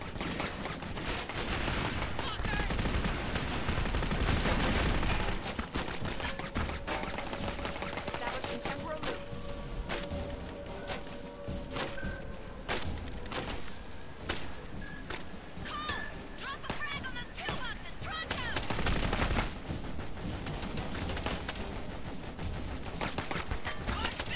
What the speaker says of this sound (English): Hey, we got turrets.